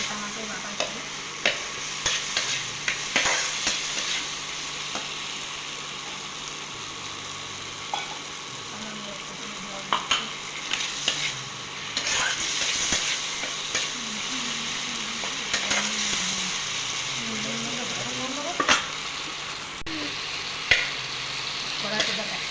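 Chopped tomatoes frying in a wok for gravy, a soft steady sizzle under repeated scraping and stirring strokes of a spatula, with occasional clinks against the pan.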